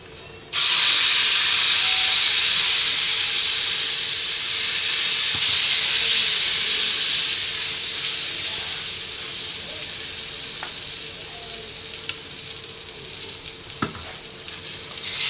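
Oil hits a hot tawa griddle ahead of a rice roti and erupts into a loud, sustained hissing sizzle that slowly settles, with a few faint clicks and scrapes toward the end.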